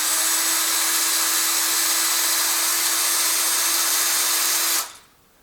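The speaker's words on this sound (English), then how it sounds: "And now I am drilling this hole in this my" Steady, loud high-pitched whine of a power drill boring a hole into a broken bolt stuck in a deep recessed hole, running continuously for nearly five seconds before cutting off abruptly.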